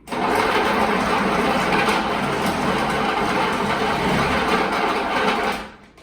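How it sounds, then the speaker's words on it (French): A food processor mixes bread dough for baguettes a second time, its motor whirring loudly and steadily for several seconds before winding down, with no talking. "Nous mixons une deuxième fois."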